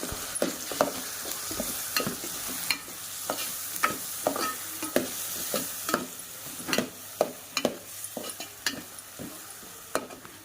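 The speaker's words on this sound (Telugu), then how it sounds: "ఈ కారం అంతా కూడా దీంట్లో బాగా ఆయిల్లో బాగా కలిసిపోవాలి కలర్ మారేదాకా వేయించుకోవాలి" Chili powder masala fries in oil with ivy gourd in a pan, giving a quiet continuous sizzle under a long series of sharp spoon taps and scrapes from steady stirring.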